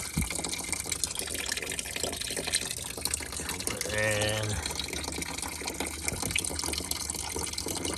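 Water gushes steadily through a car's cooling system as old blue antifreeze is flushed out, a continuous rushing flow with a person speaking briefly over it.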